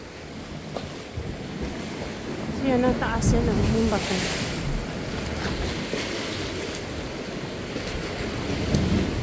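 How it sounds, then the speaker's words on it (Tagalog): Sea waves wash onto a rocky island shore in a steady, moderately loud rumble with wind buffeting the microphone, while someone speaks briefly over the surf. "ingay ngayon konti yung dagat"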